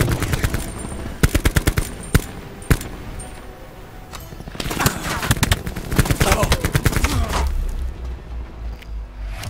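Gunfire fills a multiplayer shooter match. Rapid automatic bursts and sharp single shots come in uneven clusters, loud and close, over busy game noise and occasional talk.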